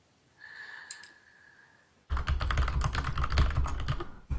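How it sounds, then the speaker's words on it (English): Rapid clicking of a computer keyboard being typed on during a Dota 2 league broadcast, loud and close, starting abruptly halfway through after a quieter steady tone and continuing as a dense, busy run of keystrokes. "Sorry for typing."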